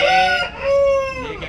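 An Aseel rooster crows once, loud and close, a drawn-out call with a rising then falling tail, with no other sounds around it.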